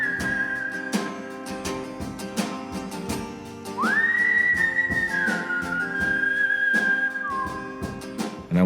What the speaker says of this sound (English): The song opens with this whistle.